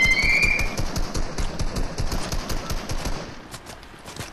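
Rapid automatic gunfire from a Fortnite match, loud bursts of closely spaced shots rattling continuously before tapering off, with a brief whistling tone at the start.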